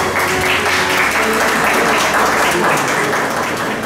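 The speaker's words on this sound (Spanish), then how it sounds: "para quien pido un fuerte aplauso" An audience at the Reina del Ecuador 2018 pageant gives a strong round of applause, continuous loud clapping from a large crowd with some voices and background tones mixed in.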